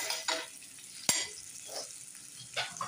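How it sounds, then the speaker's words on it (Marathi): Ginger-garlic paste sizzling in hot oil in a frying pan for a mixed vegetable masala; quiet crackling fry with a sharp clink of a utensil on the pan partway through and a few soft scraping stirs. "फ्रायींग पॅनान तेल घातिल्लें आसा, ही आलं लसूण धाडावन घेतिल्ली आसा, ती तातूंत घालता"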